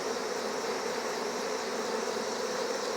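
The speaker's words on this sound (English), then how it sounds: "there were just thousands upon thousands of robber bees" A dense, continuous buzz of thousands of robber bees swarming around a beehive, steady and fairly loud, with no other sounds.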